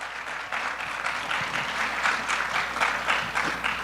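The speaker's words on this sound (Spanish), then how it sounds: "un aplauso para Rosa Beltrán, por favor" A room full of people claps steadily, a dense, continuous patter of applause at moderate volume with no voices over it.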